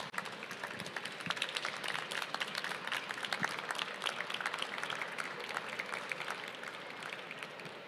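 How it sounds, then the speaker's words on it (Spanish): Audience applause at a Godzilla event at Manga Barcelona, a steady, moderately distant patter of many hands clapping for several seconds without a break. "Un fort aplaudiment."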